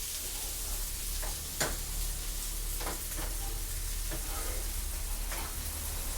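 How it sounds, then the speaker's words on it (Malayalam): Masala filling for masala dosa being stirred in a hot pan, giving a steady low sizzle with a few sharp scraping clicks of the spoon against the metal, close and alone with no talk. "ഇത് നമുക്ക് നന്നായിട്ട് മിക്സ് ചെയ്തെടുക്കാം"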